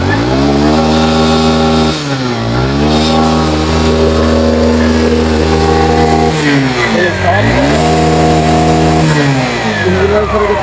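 A motorcycle engine runs close and loud, revving up and down in repeated swells with a buzzing, harmonic-rich tone as the throttle is worked, over a background of vibration.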